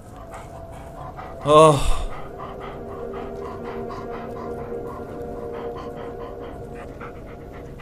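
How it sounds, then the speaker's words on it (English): A dog in the game Blair Witch pants in quick, steady breaths close by after a short loud burst, with a brief spoken exclamation near the start. "He's just a good dog."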